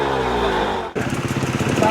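Enduro motorcycles revving at the start of the Red Bull Romaniacs race, a loud sustained engine roar that cuts off briefly, then picks up again in rapid pulsing bursts.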